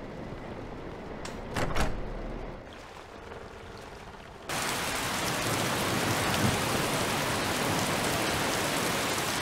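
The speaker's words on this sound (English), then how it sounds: "The rain didn't stop." Steady heavy rain hiss in a video game, starting after a few seconds of quieter ambience with a couple of knocks and then continuing loud and even to the end.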